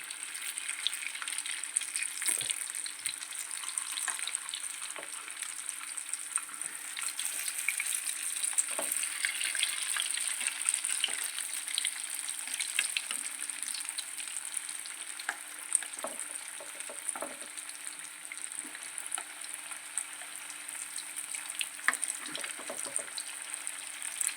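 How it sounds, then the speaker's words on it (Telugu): Bread tikka pieces fry in a pan, a steady close sizzle of oil running throughout with scattered small pops and light crackles, loud and continuous without any talk. "ఇలా టూ సైడ్స్ గోల్డెన్ బ్రౌన్ అయ్యేంత వరకు ఫ్రై చేసుకుందాము"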